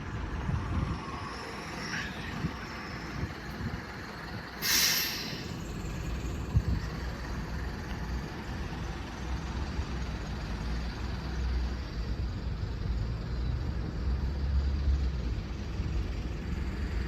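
Cars and trucks wait in a queue for the Kingswear ferry in Devon, a steady low engine rumble from idling traffic with a brief hiss partway through, heard from nearby outdoors.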